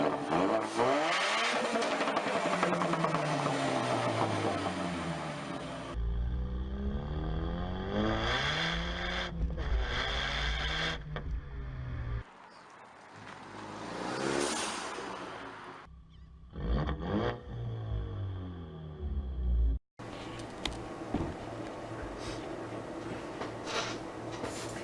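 A tuned Ford Mustang with a Coyote V8 engine and a muffler delete, revving loudly and close by in repeated bursts with short pauses between them, with no talking.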